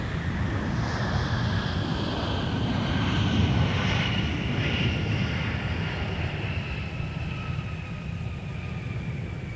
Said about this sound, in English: Sun Country 634 with the Tide Pod livery coming in from Nashville.